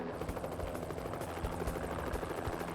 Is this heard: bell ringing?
no